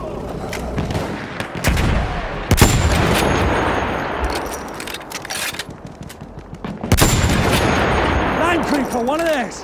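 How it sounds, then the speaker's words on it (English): Machine gun and rifle fire in the Battlefield 1 video game, loud rapid bursts and sharp single cracks mixed with battle noise, with game voices shouting over it. "Enemy machine gun, sight it!"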